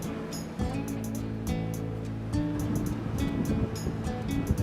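Surf washing ashore at a beach in El Salvador, a steady broadband wash with low rumble and gusts of wind across the microphone, the level swelling slightly partway through.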